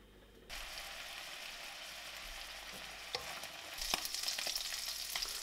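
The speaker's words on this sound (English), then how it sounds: "What we do to the pork is briefly brown it" Pork browning in hot oil in a pan for Vietnamese pork with rice, a steady broadband sizzle that starts abruptly and runs throughout, with a few sharper spits and crackles toward the end.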